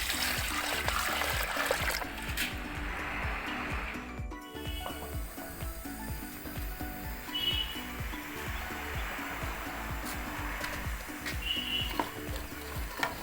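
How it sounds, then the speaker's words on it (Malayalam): Water poured onto jaggery in a pan, a steady close rush with a trickling, sizzling texture and occasional clinks, continuing without a break for over ten seconds and no voices. "ഇതിലേക്ക് നമുക്ക് വെള്ളം ഒഴിച്ചു കൊടുക്കാം"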